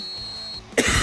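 A sports commentator at a state final four football broadcast coughs sharply and clears his throat once, close to the microphone, after a brief hush with a faint steady tone.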